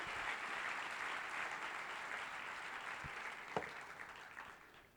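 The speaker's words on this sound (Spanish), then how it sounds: "dele un aplauso fuerte al Señor." A church congregation claps in a steady, full burst of applause lasting several seconds, with a couple of sharper individual claps standing out before it fades.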